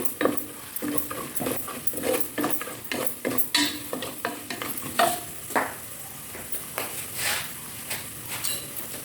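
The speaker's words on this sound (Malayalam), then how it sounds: "അതുകൂടെ ചേർത്ത് നമുക്കൊന്ന് ഇളക്കി കൊടുക്കാം" Chili powder and spices being stirred in a frying pan for beef mandi, a spoon scraping and tapping the pan in uneven close strokes over a low sizzle.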